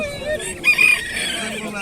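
Chickens and roosters cluck and crow at an outdoor poultry market in Sakarya, with a brief high crow standing out amid busy bird calls and nearby human voices.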